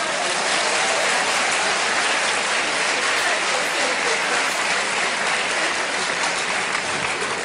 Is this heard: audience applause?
yes